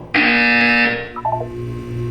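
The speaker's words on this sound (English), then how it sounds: "When you hear the buzzer, look down at the floor." A harsh electronic buzzer from the video game Portal 2 blares loud and steady for about a second, then gives way to a short descending run of tones over a lingering low hum.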